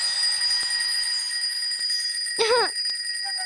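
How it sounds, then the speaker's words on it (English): A single short bell ring, a quick trilling ding lasting under half a second, standing out against a steady high-pitched hum. "your bell will ring like this"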